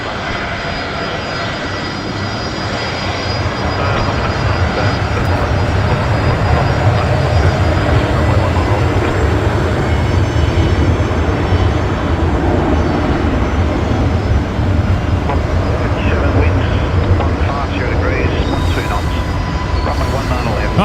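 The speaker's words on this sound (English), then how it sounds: "the 737-800 rolling now, runway 19 left" A Boeing 737-800 takes off on runway 19 left at Brisbane Airport on an overcast evening, its jet engines making a loud, steady roar that holds throughout.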